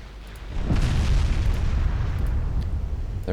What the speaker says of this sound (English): First salvos are hitting.